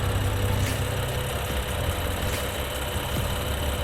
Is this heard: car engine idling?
yes